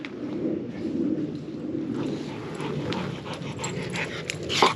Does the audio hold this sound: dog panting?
yes